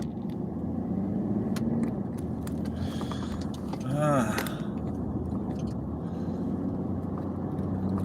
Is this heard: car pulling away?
yes